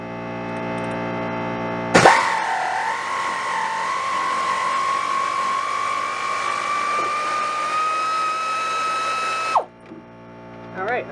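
A pneumatic air tool backs out wheel bearing fasteners on a 1997 Chevy Blazer front hub, a loud, steady, high-pitched whirring rattle lasting about eight seconds, close up, starting abruptly and cutting off sharply.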